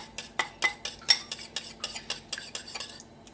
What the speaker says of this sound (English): chili powder. Alright. Let's give a real good mix.